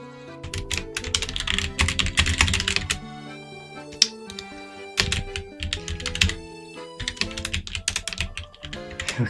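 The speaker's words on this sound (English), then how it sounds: "If I can get my typing right." Someone types on a computer keyboard, producing rapid, close clattering bursts of keystrokes separated by short pauses, with an occasional louder key tap.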